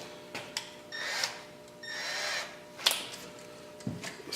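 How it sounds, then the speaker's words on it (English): A power drill pre-drills a small pilot hole in the plastic housing of a LEHR 5.0 outboard motor, heard as a few short, close whirring bursts separated by brief pauses and clicks. "going to pre-drill my second hole."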